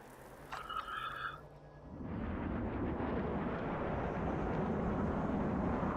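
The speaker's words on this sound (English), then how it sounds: "Small jet fighter." A small jet fighter in the video game Planetside 2 roars with a steady, loud broadband engine rush that builds from a brief tonal whine into continuous jet noise, holding and swelling slightly as it flies.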